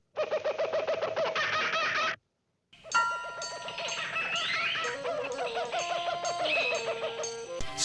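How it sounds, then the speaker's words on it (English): Afternoon jungle birds call in a dense chorus of hoots, coos and repeated whistling notes, a short burst, a pause, then a longer overlapping layer of calls. "Cringer, look at all those birds."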